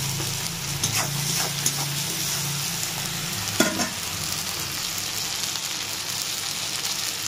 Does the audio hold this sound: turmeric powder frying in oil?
yes